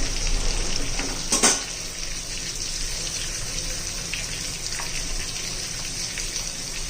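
Constant crackling sizzle of ridge gourd and spice masala frying in hot oil in a pan, close and steady, with a brief clatter near the start.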